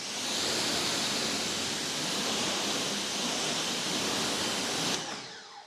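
Two Ryobi pressure washers run together in an automotive high-flow wash setup, spraying water to rinse. The spray is a loud, steady, dense hiss held for about five seconds before it cuts off abruptly.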